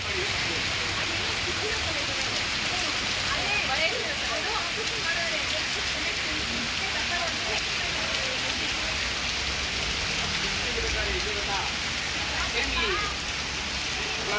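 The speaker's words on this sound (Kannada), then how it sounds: "ಮತ್ತೆ ಈ ರೀತಿಯಾಗಿ ಧಾರಾಕಾರವಾಗಿ ಮಳೆ ಸುರಿತಾ ಇರುವಂತದ್ದು" Heavy rain pours over Bengaluru in a continuous loud wash, steady throughout, with faint voices or birds barely showing beneath.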